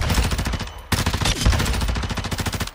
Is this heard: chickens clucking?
no